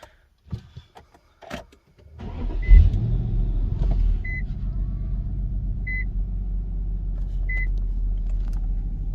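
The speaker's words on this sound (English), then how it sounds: "Let's go ahead and turn on the car." An Infiniti M45 with a VK45DE V8 and a newly installed Injen intake cranks and starts after some light clicks, then settles into a steady, close idle rumble while the dashboard chimes at regular intervals.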